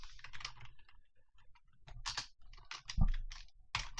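Code being typed on a computer keyboard for a Unity game tutorial, with quick, close clacking keystrokes in uneven bursts and a few heavier key hits, and no voice over them.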